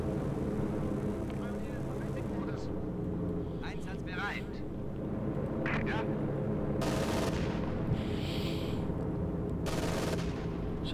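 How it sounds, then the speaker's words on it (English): Anti-aircraft fire from a veteran gun crew in Company of Heroes 2 brings down an enemy aircraft, with bursts of gunfire over steady battle rumble and engine noise while a commentator talks throughout. "Veteran 3 shooting down an enemy aircraft"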